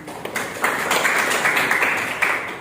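Classmates applaud in a classroom, a short burst of steady hand clapping at moderate level with a few sharper claps standing out, no talking over it.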